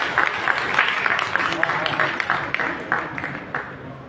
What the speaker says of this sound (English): We request all of us to kindly welcome Dr. Ahuja with a big round of applause, please.